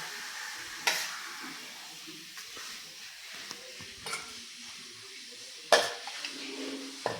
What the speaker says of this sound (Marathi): आणि हे छानपैकी असं मिक्स करून घ्यायचं